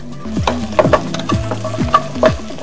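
Garlic and shallots fry in a pan for a Khmer frog dish, a steady close sizzle broken by several scraping stirs of a spatula, with no voices.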